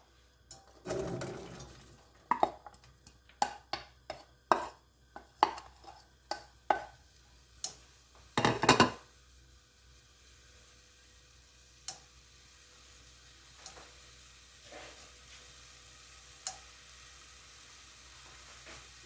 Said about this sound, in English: And then we are going to put our onions in first.